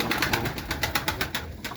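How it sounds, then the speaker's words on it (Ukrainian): Pigeons coo in a loft or dovecote, a soft, continuous murmur of calls with faint rhythmic pulses, close by and moderately quiet, with no talking. "це голуб... це голубочка"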